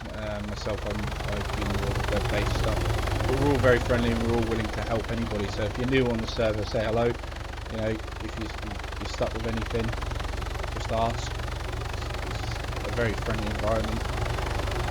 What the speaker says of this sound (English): Apologies for the helicopter sound. Ian's coming down to pick me up.